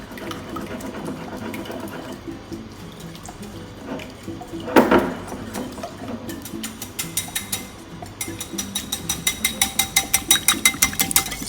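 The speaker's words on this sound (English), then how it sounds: "I'm just gonna give this a little whisk." A mixture with olive oil being whisked in a bowl for pumpkin pie, a close rattling whir that turns into a fast, regular series of clicking strokes near the end, with no speech.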